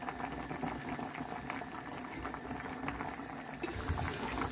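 Seafood pasta sauce with tomato paste simmering in a pan, a steady close bubbling and boiling hiss that runs the whole time without talk.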